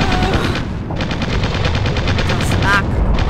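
Dense, continuous gunfire in the real-time strategy game Original War, a loud rapid-fire machine-gun rattle with a few brief higher-pitched whines mixed into the barrage, filling the whole stretch without a break.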